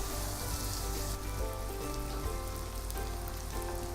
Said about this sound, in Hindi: इसको हमने अच्छी तरह से भूनना है जब तक ये चिकन ब्राउन नहीं होता।